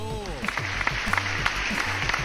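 Clapping and a small cheering crowd from the game Soccer Physics, slightly muffled, with a synthetic tone sweep at the start and a steady low backing beat.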